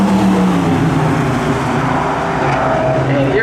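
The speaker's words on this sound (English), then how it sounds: "And here comes Bill in the Volvo" A Volvo runs a spectator race lap at New Smyrna Speedway, its loud engine roaring steadily close by and then fading as it moves off, with commentary over it.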